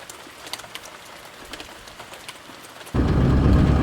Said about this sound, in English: and we're getting a little bit of rain.